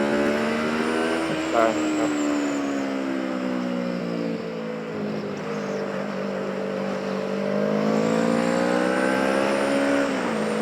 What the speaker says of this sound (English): He's passing the car on a tight corner fully, and then the car left its lane.